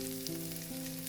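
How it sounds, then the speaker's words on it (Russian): Chopped onion sizzles in hot oil in a pan, a steady crackling hiss with a faint tonal hum in the background. "отправляем нарезанный лук на разогретую с маслом сковородку"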